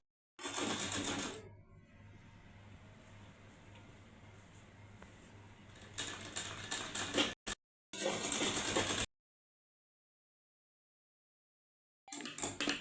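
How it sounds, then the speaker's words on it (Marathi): A sewing machine runs in bursts, stitching along the side of a blouse lining, with near, whirring stitch runs separated by pauses and stretches of silence. "इकडून पूर्ण साईडनं आपल्याला टिप मारून घ्यायची"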